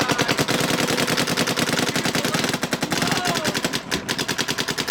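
A Luxe Idol paintball marker fires a long, fast string of close, loud shots for several seconds, its rhythm briefly loosening near the end.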